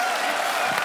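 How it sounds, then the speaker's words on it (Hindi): A studio audience at a televised comedy show claps in a brief, dense burst of applause that fills the whole moment. "ठोको ताली। ठोको ताली।"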